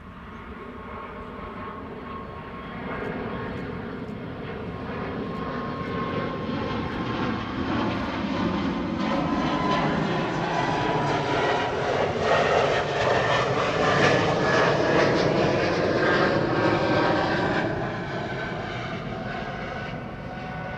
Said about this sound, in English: E2 Embraer 195.